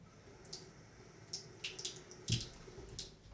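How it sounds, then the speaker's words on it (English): Warm water splashes into a shave bowl in a few short, quiet bursts, with small drips and trickles between them in a calm room. "I'm going to splash some water on top of it"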